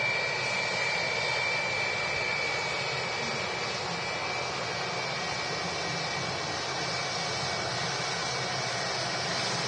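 Jet airliner departing Manchester Airport, likely a Jet2 Boeing 757, its engines a steady, loud broadband roar with a faint high whine held throughout without a break.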